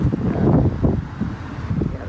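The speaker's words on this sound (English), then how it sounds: "now it's windy" Wind buffeting a microphone outdoors near trees, with uneven low gusty rumbles that swell and fade over a couple of seconds, moderately loud and with no speech.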